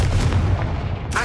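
A Confringo fire spell blasts in the video game Hogwarts Legacy, a loud booming burst with rumbling low end and a brief crackling flare near the end, no talking.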